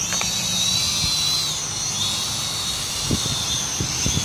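A steady high-pitched whine of small drone motors spinning up and holding, with a few soft clicks and taps underneath, outdoors.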